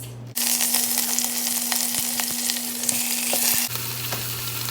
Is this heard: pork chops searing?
yes